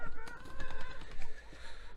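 Several chickens cluck and chatter nearby in a busy, irregular murmur, with occasional louder squawks over a low background rumble.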